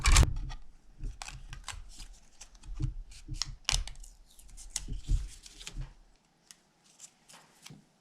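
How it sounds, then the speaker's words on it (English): Die-cutting machine pressing a cloud shape out of card, giving a run of close, dry mechanical clicks, rattles and rolling crunches for about six seconds, then near silence with a few faint taps. "put my die back on there, and I'm going to die cut again, and that'll give the second cloud"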